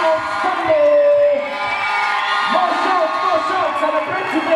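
A large crowd at a school graduation ceremony cheers, whoops and shouts loudly and continuously, with children's voices mixed in among the adults.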